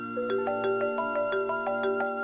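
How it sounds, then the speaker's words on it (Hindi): A phone ringtone for an incoming call plays a repeating electronic melody of bright pulsed tones, steady and fairly loud, with no talk over it. "फोन आ रहा है,"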